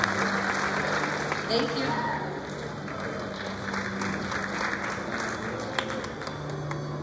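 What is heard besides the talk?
audience applause at school ceremony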